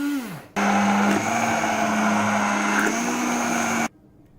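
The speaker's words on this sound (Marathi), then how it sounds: "सगळं एकत्र करून हँड ब्लेंडरनी हे चांगलं मिक्स करून घ्यायचंय।" A hand blender whirs steadily for about three seconds, mixing a paneer ice cream mixture, its motor starting abruptly and cutting off cleanly, loud and close with no talking.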